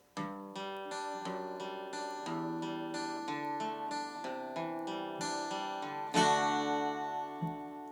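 An instrumental passage on guitar built from full strummed chords, each ringing briefly in a steady rhythm, played alone and fairly quiet, with a brighter, louder strum near the end.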